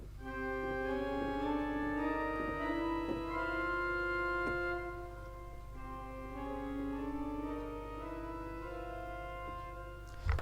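Pipe organ four-rank mixture stop beginning on a 2-foot rank, sounding bright stacked octaves and fifths as a sequence of sustained chords rising step by step, played alone in a resonant room.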